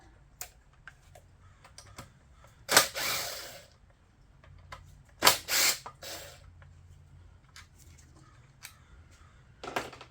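A socket ratchet clicks in a few short bursts during work on an iPower 2000 watt inverter generator, with light tool handling and small metallic taps in between in a quiet workshop.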